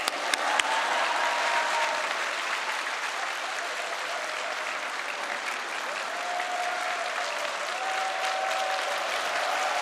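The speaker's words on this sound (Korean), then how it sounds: "이제 목사님 나오실 때 하나님께 할렐루야로 영광 돌리면서 박수로 환영하겠습니다." Church congregation at a Wednesday service in Yeouido Full Gospel Church applauding to welcome the pastor, a broad continuous wave of clapping filling the room, with a faint sustained tone running beneath.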